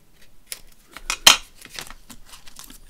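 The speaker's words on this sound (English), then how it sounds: "And I just need to cut off that little bit now" Scissors snipping through ribbon while a craft belly band is trimmed, a few sharp crisp cuts with one louder snip in the middle, close and alone.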